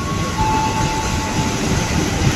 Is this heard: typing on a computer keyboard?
no